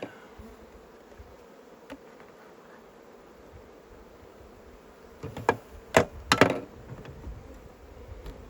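Honeybees buzz around an open hive during an inspection, a low steady drone for several seconds before louder, close bursts of buzzing and a few knocks near the end, with no speech.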